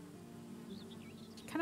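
Bees buzz around a beehive in the video game Valheim, a steady insect drone with faint wavering buzzes that rises into louder tones at the end.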